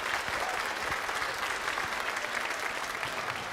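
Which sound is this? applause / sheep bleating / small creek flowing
applause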